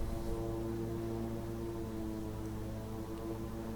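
Airliner engines spooling up to full takeoff throttle in Microsoft Flight Simulator, departing Nagasaki Airport: a steady, loud, sustained drone with strong low tonal hum throughout, no talk.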